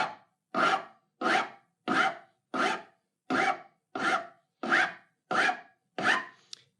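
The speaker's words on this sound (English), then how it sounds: "this is a coarse double cut metal file. It's got quite aggressive teeth, and it's going to let me rough in my bevel." A coarse double cut metal file roughing a bevel on a wooden table leg, nine steady rasping strokes at an even rhythm, each a near, scratchy push with short pauses between.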